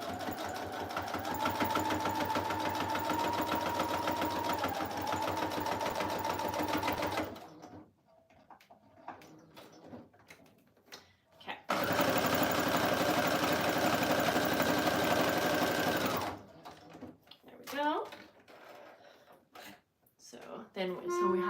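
A sewing machine stitches around the edges of a piece trimmed with lace, running in two long steady whirring bursts separated by pauses filled with handling noises and brief quiet talk.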